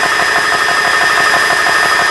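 A GX-E-CS2 high-pressure air compressor for filling airguns runs close by, building toward 4500 PSI, with a loud steady mechanical drone, rapid pulsing chug and a high whine.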